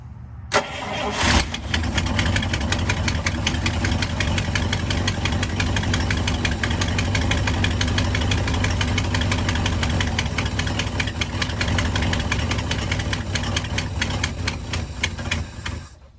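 A 1955 Buick V8 engine turns over and settles into a loud, steady, rumbling idle with a rapid uneven ticking throughout.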